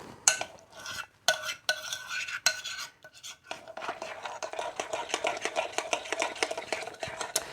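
A spoon stirs pumpkin popover batter in a bowl, making repeated close scraping and clinking strokes that grow quicker and more continuous toward the end, with no talking.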